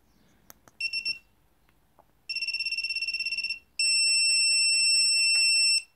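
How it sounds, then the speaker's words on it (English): Loud electronic beeping from an Atmega328P chip bootloading setup: a short burst of pulsed tones, a longer rapid string of beeps, then a sustained steady tone, close and piercing in an otherwise quiet room. "that peeping sound is so loud"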